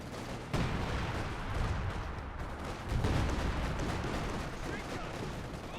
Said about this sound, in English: Artillery and an MG will suppress the blob.